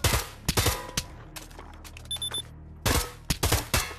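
Gunfire from the VR shooter Pavlov, aimed at targets in a kill house: loud, sharp shots come in rapid clusters at the start and end, with scattered single reports and a short pause between.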